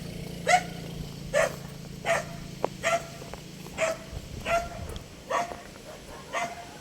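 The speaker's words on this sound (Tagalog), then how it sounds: "Ang dami aso ah." Several dogs bark repeatedly at a steady, evenly spaced rhythm, moderately distant over a low background hum.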